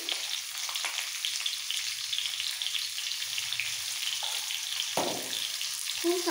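Green mango chutney frying in oil, a steady broadband sizzle running throughout with a few soft stirring clicks and scrapes, close and moderately loud with no talking.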